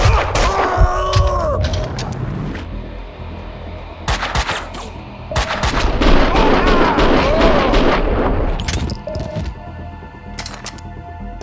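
Gunfire in the video game Max Payne 2, dense bursts of loud shots and impacts over a steady action soundtrack, with brief voices and tonal effects mixed in at close range.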